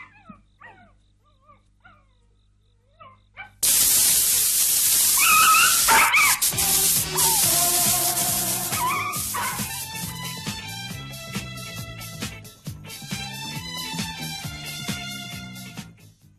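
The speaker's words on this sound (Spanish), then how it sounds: "Oye, perrito. ¿Cómo te llamas, perrito?" A small dog yaps and whimpers in a stage comedy, loud and close, with no talk over it. The yips come in a rapid run after a brief quiet start.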